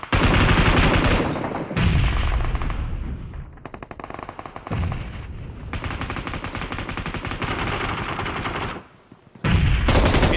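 Gunfire rings out in the video game PUBG, with several heavy, booming shotgun-like blasts that decay between them. Stretches of rapid automatic fire fill the gaps, all loud and close.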